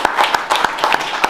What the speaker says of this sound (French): Bravo, et je vais applaudir aussi